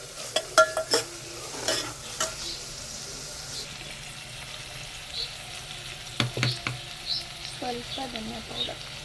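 Onion and garlic frying with turmeric in a pan, a soft continuous sizzle broken by clusters of sharp spoon scrapes and clinks against the pan, close up, with a faint murmur of voices in the background.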